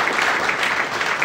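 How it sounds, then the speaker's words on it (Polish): Audience applause at a live show thanking the guests, a steady dense patter of clapping hands close by that fills the whole moment without a break. "Wielkie brawa, podziękujcie jej brawami."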